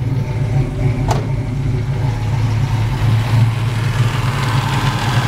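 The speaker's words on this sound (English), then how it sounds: "A little bit of noise coming from that air compressor." A steady mechanical hum from a running 1968 Pontiac Firebird's air conditioning compressor, constant and close, mixed with the engine's idle and a brief click partway through.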